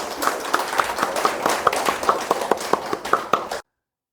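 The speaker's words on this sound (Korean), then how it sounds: "또 먼 타지에서 또 고향을 등지고 뜻길을 떠나오신 우리 성교사님께 다시 한번 또 격려의 박수를 부탁드리겠습니다." A church congregation claps during a Sunday worship service, a sparse, uneven patter of individual claps at moderate volume that stops abruptly.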